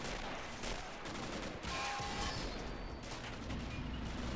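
37 mm gun firing in Men of War during the 1939 German invasion of Poland, rapid repeated shots blended into a continuous battle din of distant booms and gunfire, faint overall.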